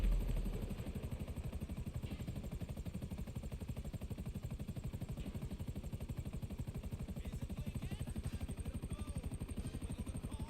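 A helicopter in the video game GTA 5 gives off a steady, rapid rotor thudding with a continuous engine drone. The sound stays loud and even for the whole stretch, with no talk over it.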